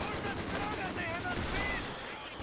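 Dense, continuous gunfire from several machine guns in an infantry battle in the video game Company of Heroes 2, with steady crackling and booms filling the clip at a fairly constant level.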